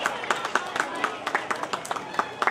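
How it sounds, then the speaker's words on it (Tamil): A small crowd claps for a man receiving an award at a Tamil New Year puja event at Thoranamalai in Tenkasi, with irregular, sparse hand claps over background voices. "அவரை நல்ல கைதட்டுங்க."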